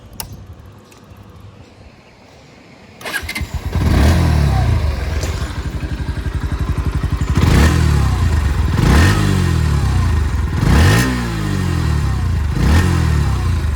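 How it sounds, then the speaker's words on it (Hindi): Bajaj Pulsar NS 125 motorcycle with an underbelly exhaust, starting up after a quiet moment, then idling close by with a steady thrum and several sharp throttle blips that rise and fall. "मैं आपको इसका एग्जॉस्ट नोट सुना दूँ।"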